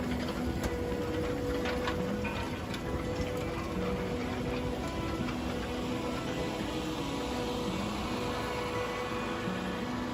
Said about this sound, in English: This is our contractor who brings in their 6-row machine to harvest the beet.